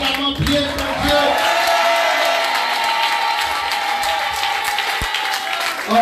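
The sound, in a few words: congregation applauding and cheering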